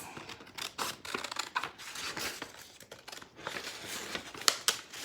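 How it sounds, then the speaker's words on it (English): Scissors cutting the little flaps of a paper craft, a run of quiet, irregular snips and paper rustles close by, with no talking. "You cut the little flaps."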